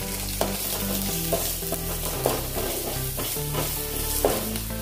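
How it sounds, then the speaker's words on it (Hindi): Crushed garlic and asafoetida fry in hot oil in a pan for Maharashtrian harolya pitla, giving a continuous close sizzle with occasional stirring scrapes under steady background music. "थोड़ी देर इसको भूनेंगे कच्चापन निकलने तक लहसुन का।"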